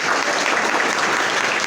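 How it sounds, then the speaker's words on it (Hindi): A school or college audience breaks into loud, dense applause for a child, a brief burst of many hands clapping together at a steady level with no voices. "एक बार जोरदार तालियां बच्चे के लिए"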